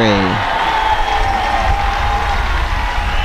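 A baseball crowd at a Burnaby Bulldogs versus Victoria HarbourCats game cheers loudly after a strikeout, a sustained roar with whoops and a brief whistle-like tone near the start.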